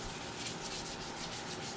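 Continuous close abrasive rubbing of sandpaper across a motorcycle tank or fender being prepped for a custom paint job, a steady dense scratching hiss for a couple of seconds.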